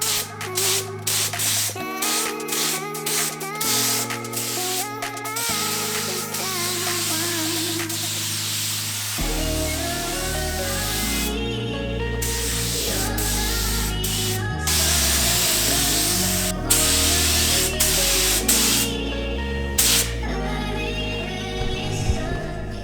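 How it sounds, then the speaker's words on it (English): A steady hiss of spray paint continues for a long stretch under music, with short pauses between passes, as a Mazda Miata is given a second coat of paint over sanded bodywork. "we're adding a new coat of paint to cover up the sanding"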